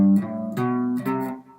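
Short guitar phrase of a few picked notes in a quick ascending coil-scale pattern, each note ringing clearly and close with no talking over it.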